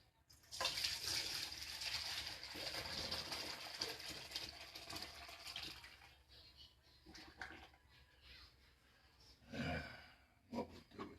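Red wine braising juice from a brisket pours through a strainer in a steady splashing, hissing stream that thins out midway, followed by a few softer trickles and clinks near the end.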